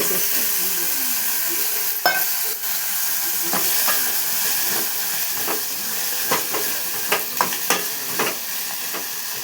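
Brinjal pieces fry in a pan with a loud, continuous hissing sizzle. Scattered scraping and clicking stirring strokes grow more frequent toward the end.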